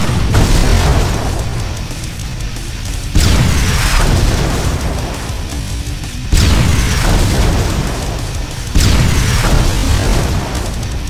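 Four loud, heavy anti-vehicle cannon blasts in Terminator: Dawn of Fate, spaced a few seconds apart, each a sharp boom trailing into a rumbling decay over constant game noise.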